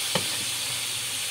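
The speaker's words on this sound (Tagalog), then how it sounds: "Ayan, nilagay na natin ang pork pickle" Pork sizzles in a pan with garlic, onion and ginger for Filipino pork caldereta, a close, even hiss with a quick stirring clink near the start.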